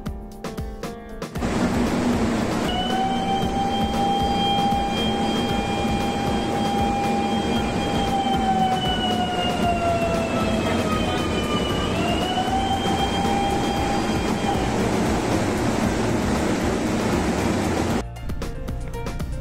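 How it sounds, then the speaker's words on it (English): A loud, continuous CO2 alarm sounder wails in a ship's motor room over a heavy mechanical drone, its pitch sliding down then rising again, sustained for most of the time. "This is also actual sound of CO2 audible sounder at motor room during opening the activation door."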